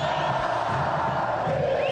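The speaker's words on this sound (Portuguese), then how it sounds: "Tá todo mundo ainda na arquibancada, gritando a campeão, gritando Chape." At the Couto Pereira stadium, a dense crowd chants for Chapecoense, a steady roar of many voices filling the whole moment.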